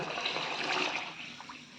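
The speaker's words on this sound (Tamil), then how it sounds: "அரிசியை நல்லா தண்ணி ஊற்றி கழுவிக்கலாம்" Water pouring and sloshing in a bowl as rice is rinsed for pakoda flour, close and fairly loud, tapering off at the end.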